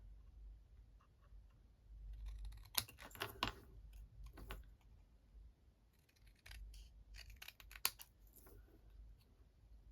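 Scissors snip through paper for a lidded gift box, a few quick crisp cuts in short clusters separated by pauses, close and quiet with soft handling noises between.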